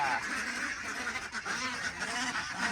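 Domestic ducks kept for eggs quack and honk together in a noisy, continuous chorus, close by and unbroken for a few seconds.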